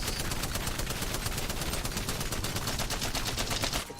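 Spitfire machine gun in a video game firing one long sustained automatic burst, rapid evenly spaced shots loud and close, ending abruptly just before the end.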